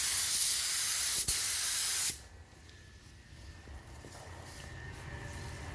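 A spray gun hisses loudly and steadily, laying metallic blue paint on the lower door of a 2001 Chevrolet Silverado, then cuts off after about two seconds, leaving a quieter background hum.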